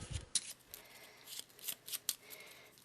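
A quick riffle of a deck of cards during an Eldritch Horror board game, faint and close, with a few crisp snaps and ruffles.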